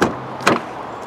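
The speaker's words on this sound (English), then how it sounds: "Closing up the rear door then and coming around to the front." A single solid car door thud as the rear door of a Nissan Juke N-Tec closes at the start, followed by a second softer knock and a low steady hum afterward.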